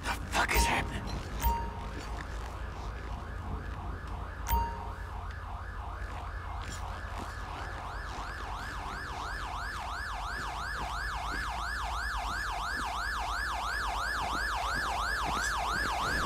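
An ambulance siren in the GTA V video game wails in a fast, steady rising and falling cycle that builds and persists, following clicks and a thump, with a voice speaking over the start.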